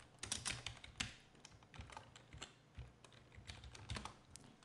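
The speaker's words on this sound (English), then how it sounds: "type wiggle" Computer keyboard typing, an expression being entered into an animation control, with a quick irregular patter of fairly close key clicks and no talk.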